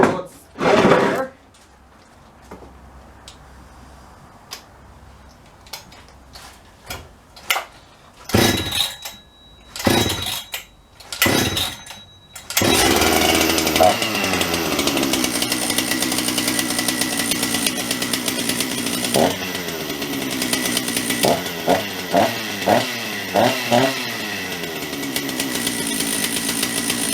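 A Jonsered 630 chainsaw fitted with a 52mm big bore kit gets several sharp pull-cord tugs on a cold start, then catches and runs on at a loud, steady idle with a few revving blips, close by.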